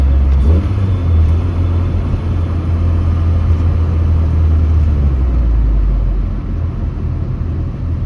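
A hot rod car drives and accelerates on winter roads, heard from inside the cabin with a loud, steady low engine rumble that swells in revving surges, with an idle air control valve fault.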